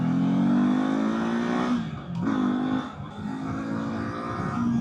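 A 2024 Kawasaki Eliminator motorcycle engine pulls up through the gears, loud and close, its rising whine dipping briefly at each shift before climbing again.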